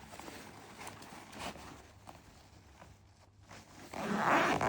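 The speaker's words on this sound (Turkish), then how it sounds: "fermuarlardan geçiriyorum." A zipper on an AFAD emergency camp bag being pulled, faint scratchy zipping through the middle followed by a louder, closer rasping run of the zip at the end.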